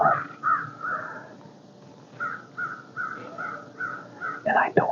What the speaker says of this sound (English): I don't understand what's up with the crow fest down here this year.